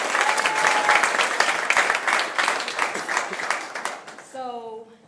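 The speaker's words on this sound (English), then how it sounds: "Round of applause." An audience at a criminal justice awards ceremony applauds an award recipient with dense, steady clapping that tapers off, a single voice speaking briefly near the end.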